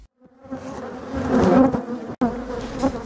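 A dense swarm of angry bees buzzing loudly and close around a beehive camera, the drone swelling in the middle, briefly cutting out, then returning.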